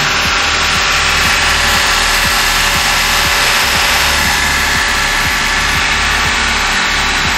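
A 2013 Toyota Agya car engine held near 2000 RPM during tuning, a loud steady drone with regular rhythmic pulses and a bright hissy edge, close and continuous throughout.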